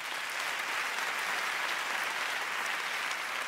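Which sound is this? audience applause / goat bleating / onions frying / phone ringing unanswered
audience applause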